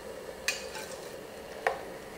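Chinese broccoli being cooked in a pot, heard as a steady low bubbling or sizzling background with two sharp clinks of a utensil against the pot. No one speaks.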